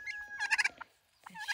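Several small young turkeys gobble in quick, bright bursts, a cluster of calls followed by a pause and a final call, close and moderately loud with no talk.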